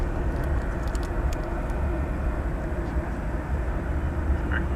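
A UPS Boeing 747 jet roars steadily at DFW airport at night, a loud continuous rumble with broadband engine noise that holds level throughout.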